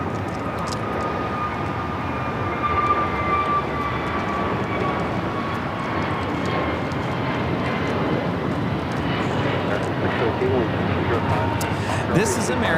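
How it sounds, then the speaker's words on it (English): An American Airlines Airbus A321neo jet takes off from LAX, bound for Philadelphia, its engines producing a steady, broad roar that holds for the whole stretch, with a faint whine laid over it and voices talking underneath. "This is American Airlines Flight 2018 taking off to Philly on the A321neo."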